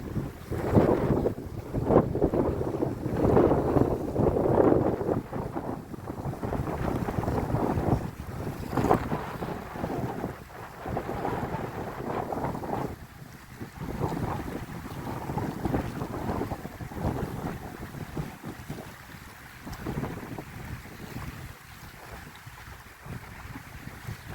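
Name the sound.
wind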